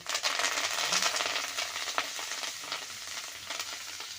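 Tadka tempering for moong dal crackles and sizzles loudly in hot oil, a dense continuous hiss with scattered pops that eases slightly toward the end, close up with no voices.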